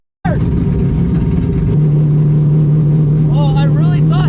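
A C5 Corvette at a Texas Mile high-speed run roars at full throttle on nitrous, a loud sustained engine drone starting abruptly, with pitch rising as the car pulls and a voice shouting over it.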